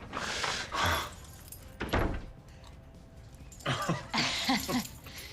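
Keys jangle in short metallic bursts, a couple of shakes early and a longer rattling cluster later, fairly close amid quiet room sounds.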